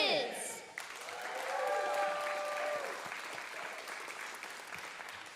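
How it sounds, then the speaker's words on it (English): An audience claps and cheers for children performers at the close of a WoodSongs Kids show, steady sustained applause from a crowd, with a brief higher sound at the very start. "Let's give all these kids a big round of applause"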